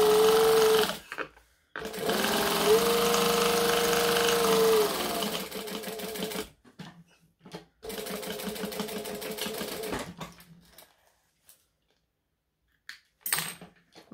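A sewing machine stitching a fabric laptop case runs in several close, steady bursts separated by pauses, with small clicks and handling sounds between runs.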